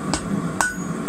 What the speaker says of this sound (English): just hit these edges a bit more